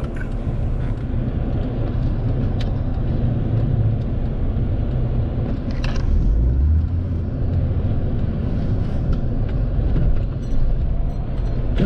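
Dense road traffic near a busy shopping area, a constant low rumble of many vehicles with a heavier vehicle swelling past midway, loud and close, with no speech.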